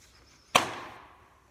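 Nerf Rival Deadpool blaster firing a foam ball, a single sharp close pop followed by a short fading decay.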